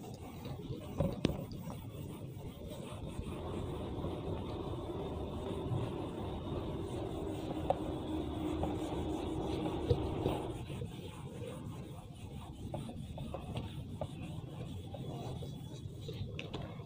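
In a lecture setting, writing is rubbed off a board with a soft, continuous scrubbing that runs for about ten seconds, then eases into quieter handling noise; faint and close, with a little low voice in the background.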